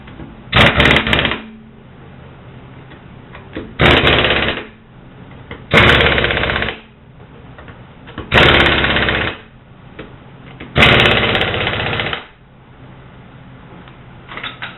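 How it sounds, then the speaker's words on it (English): An air hammer rattles in five loud bursts of about a second each while fitting rear wheel bearing parts on a 1989 Corvette, separated by pauses with a low hum between them. "I'm initially going to put these on with an air hammer,"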